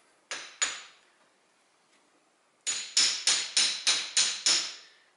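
Two sharp metallic hammer blows on Ford front axle driveshaft parts, a pause, then six more strikes in a steady, even rhythm, each ringing briefly before the next.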